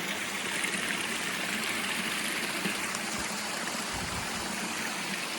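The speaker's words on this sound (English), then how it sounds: "Cute little fall. Water coming down." A small trail waterfall pours steadily down a mountain slope, a dense continuous rush of falling water heard close and alone, with no voices.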